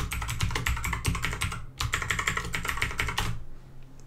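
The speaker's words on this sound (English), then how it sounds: "So sudo su and pop in your password." Rapid, steady keystrokes on a computer keyboard as a password is entered, close and clear, with a short pause midway and one final keypress before it stops; no voices.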